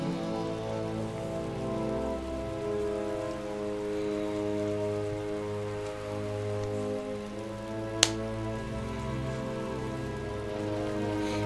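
Steady in-game rain from Final Fantasy XII falling over a gloomy scene, a constant hiss layered over droning background music, with a single sharp click partway through.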